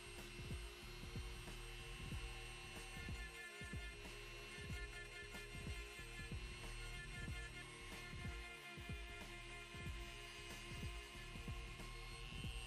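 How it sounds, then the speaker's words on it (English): A sanding wheel shaping the body of a sculpture gives a steady, loud motorized hum with a rhythmic throbbing pulse, continuous throughout with no talking. "Now, I'm shaping the body with a sanding wheel."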